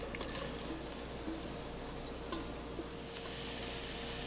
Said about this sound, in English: lightly saute our onions and shallots